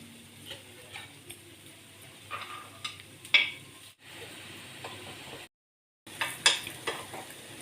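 Sweet bonda cooking in a covered pan on the stove, a low quiet sizzle broken by sharp ticks and clinks, with brief near-silent gaps.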